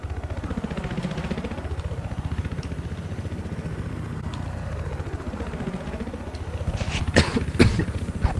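A helicopter in the Battlefield 4 video game thrums with a steady, rapid rotor chop and sweeping engine pitch that rises and falls, close and continuous, with a few sharp game sounds near the end.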